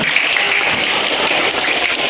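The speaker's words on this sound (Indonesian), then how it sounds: "Kasih tepuk tangan untuk kalian semua." Students in a junior high school classroom applaud together, a dense continuous wash of clapping that stays loud and even throughout.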